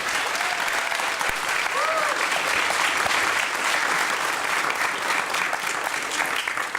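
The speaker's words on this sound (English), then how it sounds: "let's give them a big round of applause." Audience applause for guest speakers at a science and engineering lecture series, sustained steady clapping throughout, fairly loud and even, with a brief voice-like tone briefly surfacing over it.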